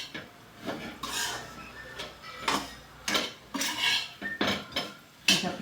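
Spatula scraping and clinking in a pan as an onion and gram flour mixture is roasted for dhemsachi bhaji, heard as irregular close metallic scrapes and knocks with no talk.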